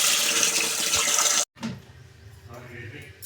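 Rice and lentils are washed in water: a steady rush of tap water runs loudly, stops abruptly, then softer swishing and sloshing follow in the container.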